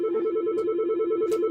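A telephone rings in a radio studio with a rapid, continuous warbling trill, steady and moderately loud, with two brief clicks or rustles over it.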